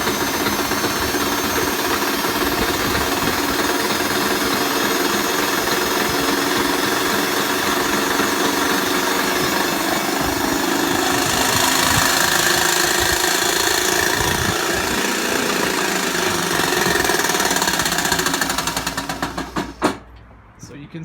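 A Dyson CR01 machine, damaged after a brick went through a washing machine, runs with a steady loud rumbling drone and rattling throughout, cutting off near the end.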